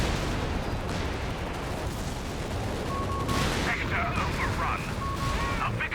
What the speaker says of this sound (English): Is that artillery overwatch from Nickiepoo being brought in?